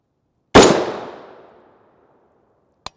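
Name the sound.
rifle shots of M193 rounds from 18-inch upper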